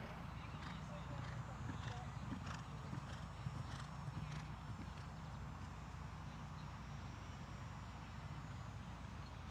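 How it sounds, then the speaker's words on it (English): Horse galloping through a modified grand prix show jumping round, its hoofbeats a rapid continuous drumming under a murmuring crowd and voices in the arena. "Yeah, a nice horse. It's a beautiful gallop"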